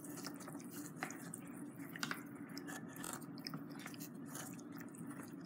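Slimy pink bath bomb water squishes and drips between hands, making soft, wet, close sounds that continue steadily with a few sharper drips.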